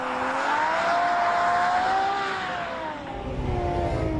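A front-mounted 740-horsepower Ferrari F12 V12, rear-wheel drive, pulls hard on a cold racing circuit, its loud engine tone rising steadily, then easing off and dropping back as revs fall near the end.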